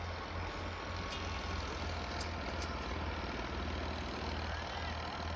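A tractor engine runs in a farm field beside a maize crop, its low, steady diesel drone rumbling continuously at a faint, distant level.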